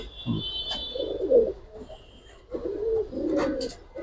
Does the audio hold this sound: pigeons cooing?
yes